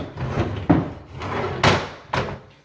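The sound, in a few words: custom cabinet pull-out drawers opening and closing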